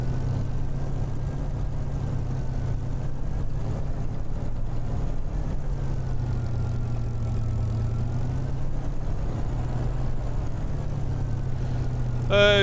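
A Spitfire's aircraft engine runs steadily on the ground during a run-up check, a low, even rumbling drone heard close and continuous, with a brief rise at the very end.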